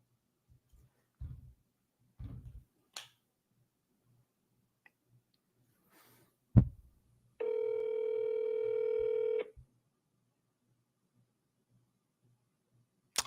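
A telephone call being dialed and ringing: a steady electronic phone tone holds for about two seconds midway, set among scattered soft clicks, taps and low thumps, with no talking.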